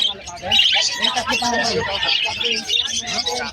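Frillback pigeons, including a cinnamon frillback, coo and flutter at a bustling pet market among other chirping birds, heard close under continuous nearby conversation.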